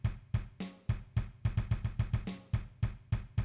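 Plain built-in drum sounds from an electronic drum pad, dry and without effects, play a loose, slightly unquantized beat of punchy kicks and snappy hits, close and alone.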